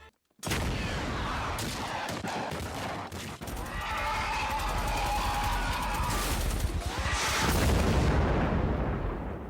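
A cartoon fracking rocket blows up in Family Guy, producing a loud burst of booming, crackling explosions with sharp bangs that carry on for several seconds and end in a final heavy rumble.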